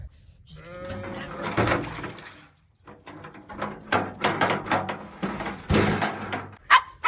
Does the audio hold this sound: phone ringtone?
no